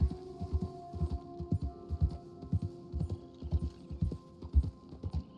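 Horse hooves clip-clop steadily while riding in the video game Red Dead Redemption 2, a regular galloping rhythm of muffled thuds close by with a low hum underneath, and no talk.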